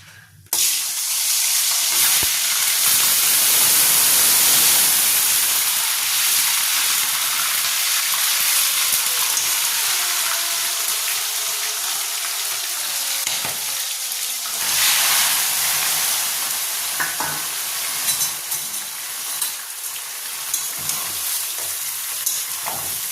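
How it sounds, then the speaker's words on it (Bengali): Crabs frying in a pan with bay leaves give a loud, steady sizzle and hiss throughout, with occasional stirring clinks and surges of spitting oil, and no talk. "এবার আমি কাঁকড়াগুলোকে দিয়ে দেবো।"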